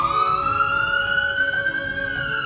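Ambulance siren wails loudly and continuously, its steady tone slowly rising and then falling slightly, with low traffic rumble beneath.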